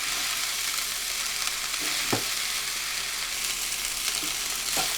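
Chow mein noodles stir-fried in a pan, a steady loud sizzle filling the whole stretch, with a few sharp scraping knocks of utensil against pan as the noodles are tossed and mixed.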